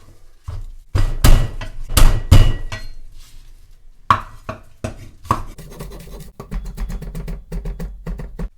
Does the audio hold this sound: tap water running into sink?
no